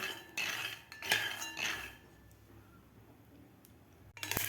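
Peanuts dry-roasting in a pan over a medium gas flame rattle and clink as they are tossed, a few sharp scrapes early on, then quieter stretches of faint shuffling before a final metallic clatter.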